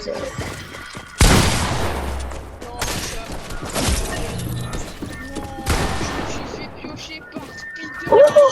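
Gunfire in a shooting video game comes as several loud, sharp bursts and impacts, spaced a second or two apart amid ongoing game noise, with voices talking over parts of it.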